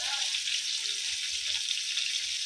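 Pabda fish with black cumin and onion frying in a pan, a steady, close, continuous hiss of sizzling oil with no talk over it.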